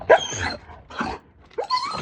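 A Doberman barking close by, three sharp, loud barks spaced over about two seconds, with no talk.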